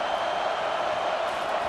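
Stadium crowd roar from a College Football 25 game, a steady loud wash of noise with no breaks.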